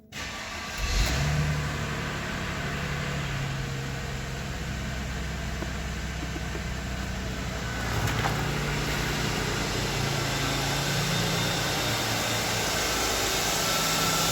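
A Mercedes W221 engine, cold, starts with a brief crank and settles into a steady idle, a constant low hum that lasts throughout at close range.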